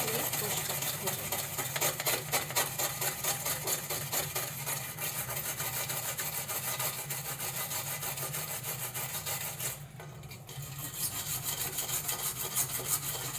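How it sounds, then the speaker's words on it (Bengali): A wall brush scrubs stains off a gas burner in steady, rapid back-and-forth rubbing strokes, close and continuous, briefly pausing near the end before resuming. "এগুলো হচ্ছে ওয়াল ব্রাশ দিয়ে ঘষলে পরিষ্কার হয়ে যাবে"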